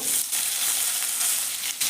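Diced raw papaya hits hot oil with nigella seeds and fries with a loud, continuous sizzle, broken by brief stirring scrapes in a close kitchen pan.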